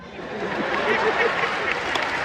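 Audience at a talk on living through depression claps steadily, a moderate wash of applause from the room with no clear voices over it.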